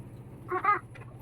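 A chicken gives a short, close cluck or two over a low background hum, brief and fairly loud.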